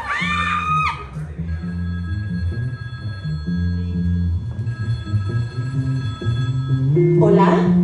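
A telephone rings briefly at the start of a comedic stage sketch in a tribute show for a vedette, followed by someone speaking loudly over a musical backing.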